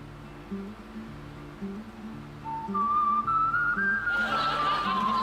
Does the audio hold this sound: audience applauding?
no